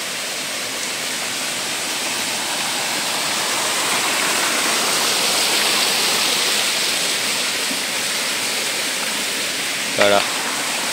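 Water from a forest mountain stream tumbles down a small rocky waterfall in a continuous, dense rushing roar, close and steady, with a brief click near the end.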